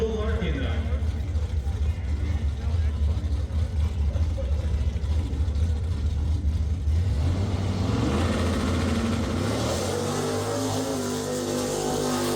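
A drag race car launches down the strip at a Pontiac muscle car event, a loud, continuous engine roar that stays strong throughout with a voice talking over it.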